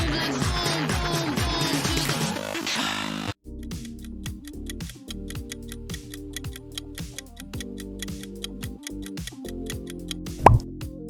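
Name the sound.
Pepsi logo sound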